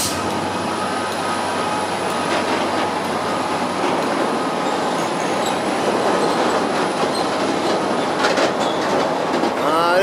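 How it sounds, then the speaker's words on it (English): A train departing Cardiff Central for Holyhead rolls past close by with a continuous rumble, wheels clicking over the rails and metallic squeals rising as it moves off. "We have the Holyhead train departing over the side."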